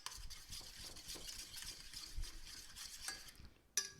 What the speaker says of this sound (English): keep stirring that around till it's all completely melted